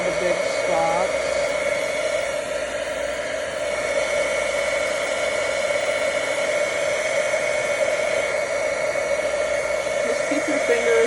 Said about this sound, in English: Keep your fingers away from the heat gun because it is very hot.